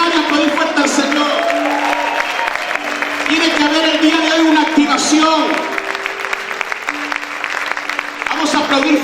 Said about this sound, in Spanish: Pueden gritar y aplaudir fuerte al Señor.